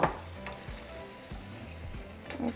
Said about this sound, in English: just allow it to come to a simmer